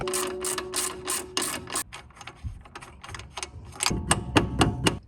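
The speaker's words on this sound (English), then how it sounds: "So we're just gonna take our breaker bar and get on that." A breaker bar works loose a suspension bolt on a Tesla Model 3 during a lowering-spring install, with rapid repeated metallic clicks in bursts, a brief pause, then more close, fairly loud ratcheting clatter.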